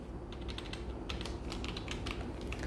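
A computer keyboard clacks steadily as an address is typed into Tally Prime accounting software, quick irregular keystrokes close by over a soft background hum, no voices.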